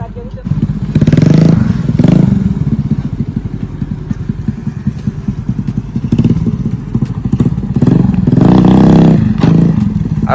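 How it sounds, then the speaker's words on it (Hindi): Scooter engine revving during stunt practice, a close, loud puttering motor that rises in several throttle blips and falls back to idle between them, with someone talking over it. "अब देता रेस, अब हल्की सी रेस देता।"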